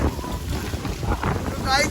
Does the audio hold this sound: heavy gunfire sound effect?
no